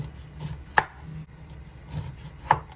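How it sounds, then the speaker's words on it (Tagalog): A knife slices through a washed lemon on a board, two sharp distinct cuts with soft knocks between them, close and quiet, with no talk. "Hugasan mo na ang lemon bago hiwain. Ganito ako mag-slice."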